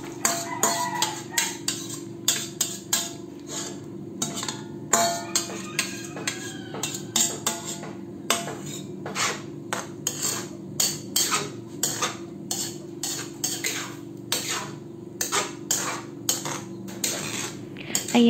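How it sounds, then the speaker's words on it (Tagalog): Boiled mung beans are added to a pot where pork chop is cooking, with a steady run of close metallic clinks and scrapes from a spoon on the pot over a low background hum, and nobody speaking. "ilagay na natin ang pinakuluan natin na munggo kanina"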